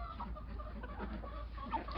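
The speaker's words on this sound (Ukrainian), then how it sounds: "Що ви, курки, чому?" Backyard chickens clucking softly at close range in a short, faint, low-fidelity stretch, with no talk over them.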